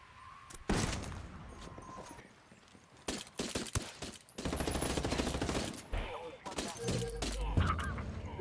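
Gunfire breaks out in bursts of sharp, close shots with quick volleys and scattered single cracks across the clip, a voice talking amid the firing.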